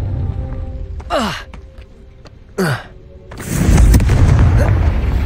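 Confringo fire spell explosions in the Hogwarts Legacy video game: two short whooshing blasts a second apart, then a louder sustained rumbling burst, close and prominent.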